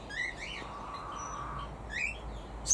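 A bird in an outdoor aviary gives a few short, squeaky warning chirps, spaced apart, with a soft hiss of movement between them. The calls are fairly close but quiet, and no one speaks.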